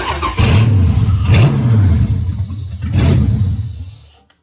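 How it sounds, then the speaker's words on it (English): A 6.1 Hemi V8 running FAST Fuel V1 injection and a Hemi6 ignition controller revs three times, each throttle blip rising into a loud, close roar before settling back to a rough idle and cutting off. "Let me try to work this throttle while I'm taking this video."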